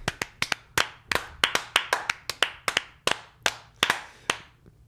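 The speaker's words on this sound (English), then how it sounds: "it is really just two people clapping in a big room" Two people clapping in a big room, about sixteen sharp claps in a steady, slightly uneven rhythm, each ringing with reverb; close and clear with no talk.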